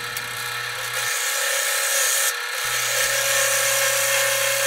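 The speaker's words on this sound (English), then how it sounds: "it's easier to hog out the wood on the bottom with the scraper" A scraper hogs out wood from the bottom of a deep, steep-walled square bowl spinning on a wood lathe: a loud, close, continuous grinding scrape over the machine's steady hum, which briefly drops out partway.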